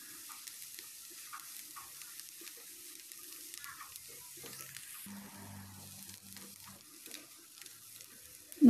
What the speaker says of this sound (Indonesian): Lalu aduk sampai bawangnya layu.